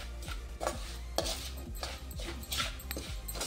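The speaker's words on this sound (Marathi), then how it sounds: "आता अर्धवट या गरम तेलातच परतून घेणार आहोत" Ground spice mix sautéing in hot oil for Indian amla (gooseberry) pickle, with a spoon scraping and clinking against the pan in repeated strokes over a steady soft sizzle, close by.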